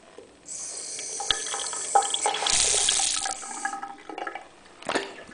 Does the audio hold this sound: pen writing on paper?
no